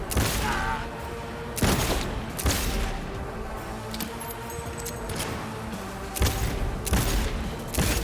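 Scattered heavy shots and bursts in a Cyberpunk 2077 firefight, several loud cracks spaced a second or so apart over busy background combat noise.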